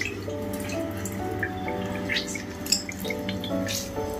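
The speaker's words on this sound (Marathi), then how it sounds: "चाळणीमध्ये आई गाळून घेते सगळं पाणी." Boiled taklyachi greens drain through a sieve, water dripping and trickling steadily at close range under a soft background hum.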